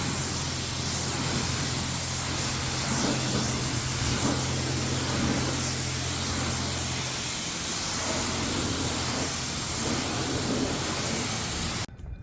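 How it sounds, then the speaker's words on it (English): A pressure spray gun rinsing soap off a 1997 Mercury Grand Marquis during a car wash, giving a loud, continuous broadband hiss with a low hum beneath, steady throughout until it cuts off at the end. "all I did is I spray everything off, and I just used the soap that comes straight out of the gun"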